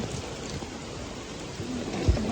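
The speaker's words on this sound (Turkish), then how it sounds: "bu yağmur ne?" Steady rain hissing across the whole clip, with a soft low rumble near the end; no voices.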